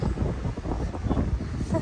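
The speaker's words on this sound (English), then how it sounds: "It's so windy" Gusty wind buffeting the microphone with a low, rumbling roar that swells and dips throughout.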